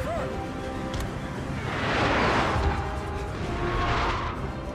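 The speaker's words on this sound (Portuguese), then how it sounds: "Esses disparos anti-infantaria são muito fortes" Anti-infantry artillery fire rumbles across a Napoleon: Total War battlefield, a swelling roar of cannon blasts and crashing shot rising and falling over steady battle ambience.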